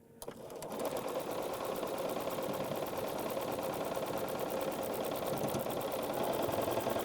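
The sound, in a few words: sewing machine stitching a quilt block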